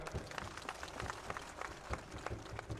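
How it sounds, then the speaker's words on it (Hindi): A rally crowd claps to welcome guests seated on stage, dense, steady applause with irregular individual claps running throughout, no voices on top. "तो ये जितने मंच पर बैठे इनका ताली बजा के स्वागत करो।"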